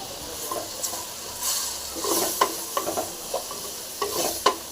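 Steady sizzling of masala being stir-fried with bitter gourd in a hot pan, with repeated scraping clicks of a spatula stirring throughout.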